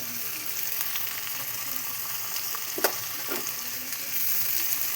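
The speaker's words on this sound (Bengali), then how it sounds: "আমি আলুর সাথে একবারে পেঁয়াজটা ভেজে নেব" Onions and potatoes frying together in a pan for ghugni give a steady, soft sizzle, with a couple of brief scraping stirs near the middle and no talking.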